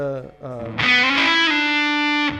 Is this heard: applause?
no